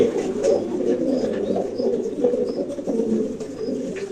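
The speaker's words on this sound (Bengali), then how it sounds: "ও কিন্তু মায়াকে দেখে ডাকা শুরু করে দিছে এটা কি কোনো মায়া কবুতরের ডাক" Pigeons coo repeatedly in low, throaty rolling calls, close by and continuous in a pigeon loft, with faint chirps from other birds in the background.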